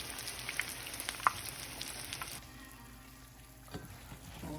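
A West African pancake frying in hot oil gives a soft, steady crackling sizzle with a couple of sharper pops. It quietens noticeably about halfway through, heard alone without talk.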